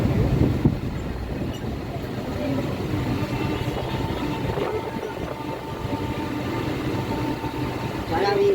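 A passenger train in motion produces a steady rumble and rattle of the rail car throughout, with muffled voices mixed into the constant noise.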